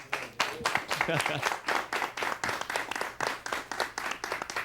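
Applause for a band on stage at a Brazilian TV variety show, heard as rhythmic, fairly loud clapping that turns into an almost steady beat, with a voice speaking briefly underneath.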